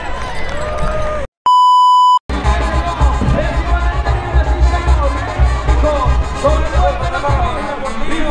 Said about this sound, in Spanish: Fuerte el aplauso, mi público.